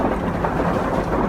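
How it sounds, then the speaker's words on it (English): Heavy rain at night drums steadily on a camper van, a dense, loud, unbroken wash of noise through the whole short stretch with no voices. "It's raining pretty hard"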